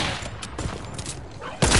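Sniper rifle gunfire in Fortnite on a PS4 Pro: several close, sharp shots and impacts scattered over under two seconds, ending with one especially loud, heavy report.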